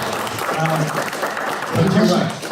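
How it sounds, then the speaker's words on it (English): Audience applause for a translator at a philosophy talk on Objectivism, a steady wash of clapping with voices talking over it throughout. "round of applause for her for doing this"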